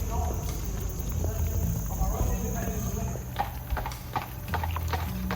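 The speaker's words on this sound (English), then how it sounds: "This isn't the last horse and buggy you're going to see." Horse hooves clop steadily on a hard road, moderately close, over outdoor ambience with insects chirping faintly.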